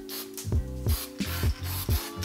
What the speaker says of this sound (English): I like to use some of this spray tack on my head gaskets